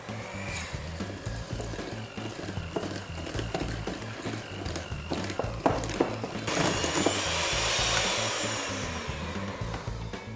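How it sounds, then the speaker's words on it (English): An electric mixer whirs steadily as it beats baked-cheesecake batter made with golden caster sugar, chocolate chips, sour cream and peanut butter, a continuous motor hum with light clattering against the bowl. "straight in the mixer"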